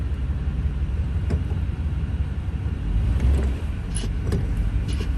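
The engine of a 1987 Chevy G20 van runs with a steady low rumble, swelling briefly midway, and light metallic jingles near the end, close by with no talking.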